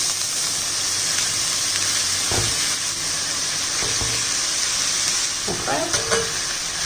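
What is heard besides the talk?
sautéing drumstick flowers with chilli and shallots in a pan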